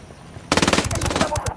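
Automatic gunfire from a firefight in Ghost Recon Wildlands erupts after a brief quiet, as a loud, rapid, continuous stream of close shots with uneven bursts.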